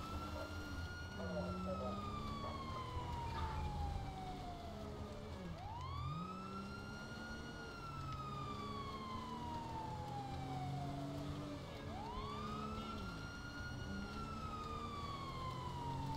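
A police car siren in GTA V with the LSPDFR mod wails in long slow rising and falling sweeps, repeating every few seconds over a continuous engine and road rumble.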